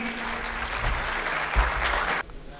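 An audience at an Urdu poetry mushaira in Sargodha, 2025, claps in a dense, steady round of applause that fills the hall and then cuts off abruptly near the end.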